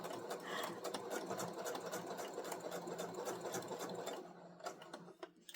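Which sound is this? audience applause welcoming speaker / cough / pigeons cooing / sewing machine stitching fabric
sewing machine stitching fabric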